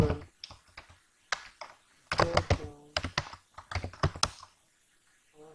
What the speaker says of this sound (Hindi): और यहाँ पर टाइप करते हैं कुछ